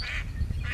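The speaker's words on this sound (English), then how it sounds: "there's a Canadian goose down in there" Canada geese honk from a distance outdoors, a few faint calls near the start and end over low wind rumble.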